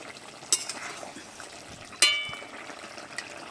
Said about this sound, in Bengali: ঢাকাটা খুলে নিচ্ছি, একটু নেড়ে ছেড়ে দেবো।